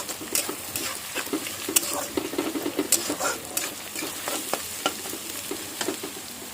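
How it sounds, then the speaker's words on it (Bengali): Chopped onions sizzle and fry over a high gas flame in a pan for chow mein, with a spoon stirring them in quick, scraping strokes close by. "পেঁয়াজটা একটু নেড়ে দেবো, গ্যাসটা একটু জোরে করে দেবো। পেঁয়াজটা আমি দিয়ে নাড়বো।"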